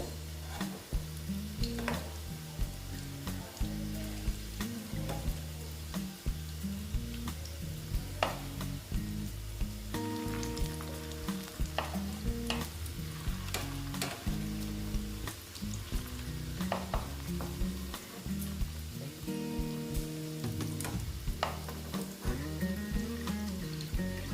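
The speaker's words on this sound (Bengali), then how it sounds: "এটা সুন্দর হবে ভাজা আস্তে আস্তে হবে" Food fries slowly in a pan on low heat and is stirred now and then, a continuous close sizzle dotted with scraping clicks, heard alone for over twenty seconds beside steady tonal background tones.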